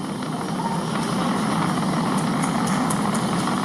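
Falcon 9 rocket engines roar as the vehicle throttles back up to full power after passing maximum dynamic pressure, a steady, dense, continuous rumble with no voices over it.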